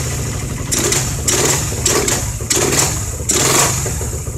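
A Suzuki Satria FU motorcycle engine fitted with a Keihin PE26 carburetor runs close and loud, blipped in four or five rhythmic revs over a buzzing idle, with no talking.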